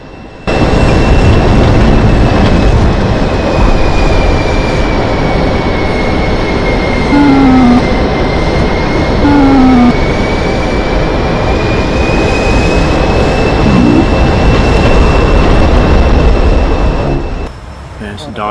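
Inside an F-14 cockpit in DCS World, a loud roaring jet rush fills the cabin and a missile streaks past overhead, a rising and falling whoosh laid over the steady engine drone before it cuts off near the end.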